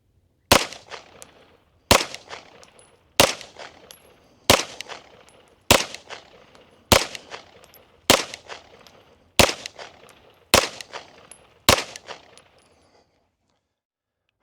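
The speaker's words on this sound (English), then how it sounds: "We're just going to shoot a couple 10-shot groups here." Ten sharp gunshots from a Tisas 1911 Night Stalker 9mm pistol fired with 115 grain CCI Blazer rounds, evenly spaced about a second apart, loud and close, each with a short ringing decay and no talking.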